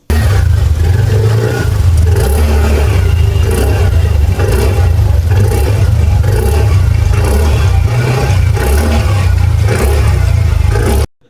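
A 2026 TVS Jupiter 125 disc-model scooter engine and chrome exhaust run steadily and loud up close, a continuous low mechanical hum with a regular pulsing beat throughout, ending abruptly.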